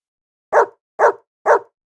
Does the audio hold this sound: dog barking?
yes